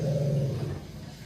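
Dog growling low and close, a short rumbling snarl that fades away within about a second.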